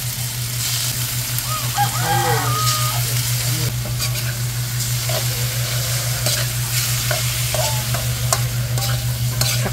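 Chicken pieces sizzle and sauté in a pan for adobo with string beans, a constant loud frying hiss with a steady hum beneath and occasional scraping stir sounds.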